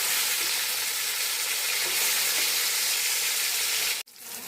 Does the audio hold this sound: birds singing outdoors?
no